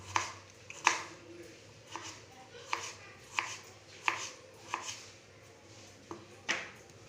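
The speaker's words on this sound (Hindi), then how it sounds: "तारपर प्याज काटमा प्याज के लम्बा लम्बा काटमा" Onions are sliced lengthwise with a knife on a board for a spiced puffed-rice snack, with about a dozen crisp, separate chops at an uneven pace, close and clear and without talk.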